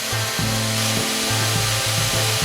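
A power drill whines while boring a hole into the end of a threaded rod for a catamaran's rudder housing. The motor runs in short bursts that stop and restart, steady and close, with no talking.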